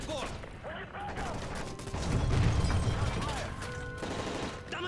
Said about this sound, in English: That's gunfire! Hijackers are taking the plane!